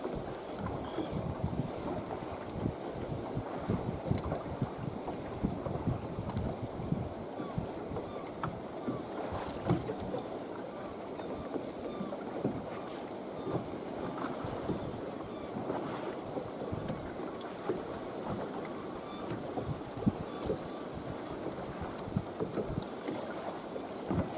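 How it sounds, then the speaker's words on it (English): A southeast wind roars over rough ocean whitecaps, water churning continuously, with gusts buffeting the microphone; no one speaks. "The ocean's pretty rough out there today, the whitewater. There's a lot of white caps."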